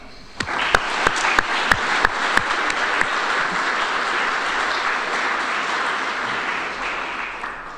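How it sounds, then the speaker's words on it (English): A conference crowd at the NH Preservation Alliance event applauds sponsors: a few sharp individual claps open, then sustained, full applause swells and holds steadily, fading slightly toward the end. "Please join me in applauding them."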